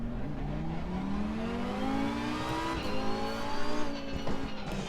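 A Lamborghini GT3 race car in Assetto Corsa Competizione, its engine revving and climbing steadily through the gears, loud and close, with tyre noise as the pitch rises and falls slightly toward the end.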